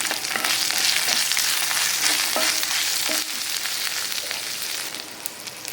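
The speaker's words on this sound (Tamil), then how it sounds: "பெருங்காயத்தூள் போட்டு தாளிக்கும் போதே" Asafoetida tempering in hot oil gives a steady, close sizzle and crackle with small pops and some stirring throughout. No talk.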